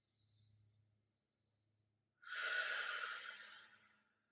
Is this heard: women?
no